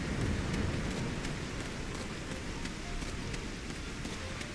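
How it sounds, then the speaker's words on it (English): Heavy rain pours steadily in an outdoor scene in a video game, a dense, even hiss that holds through the whole stretch with no voices. "it's pouring down rain"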